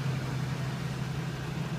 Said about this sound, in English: You can hear the muffler rattling.